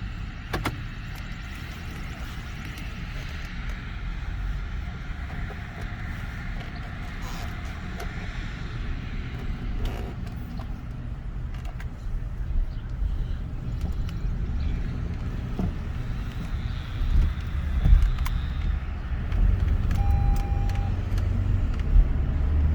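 A car pulls out and drives off along a country road, its engine and tyre rumble rising steadily in a close, continuous drone with no talk.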